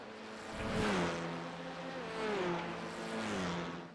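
TCR touring race cars roar down the main straight at Virginia International Raceway in iRacing, engines rising and falling in pitch as they pass, fairly faint with a steady drone between passes.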